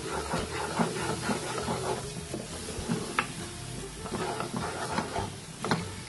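Brinjal masala frying in a pan, with a continuous close sizzle and the scrape of a stirring spoon, and no voices.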